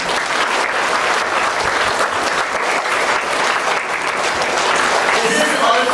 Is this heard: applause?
yes